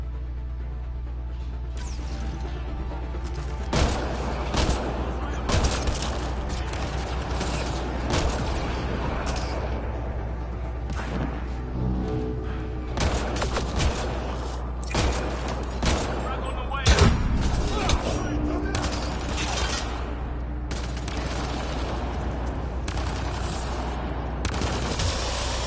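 Rapid gunfire from the sci-fi shooter Mass Effect Andromeda, sustained bursts of pistol shots and combat noise running under constant in-game action, with someone talking over it throughout.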